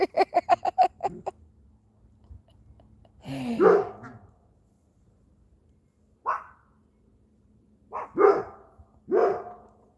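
A dog on a farm barks loudly and close, first a quick run of rhythmic barks, then several separate single barks and yelps spaced out over a quiet background.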